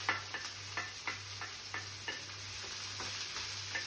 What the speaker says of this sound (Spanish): empieza a saltar el ajo, la cebolla